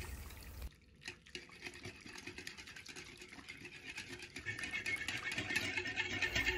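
Water poured onto room-temperature butter in a bowl and stirred together, a steady liquid splashing and stirring that starts after a brief clunk and grows louder and busier over several seconds.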